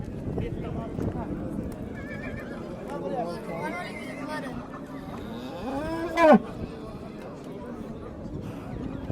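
A busy livestock market with horses and cattle in Chiroqchi, Qashqadaryo, Uzbekistan: a horse whinnies loudly partway through, over lowing, hoof clatter and the murmur of people talking.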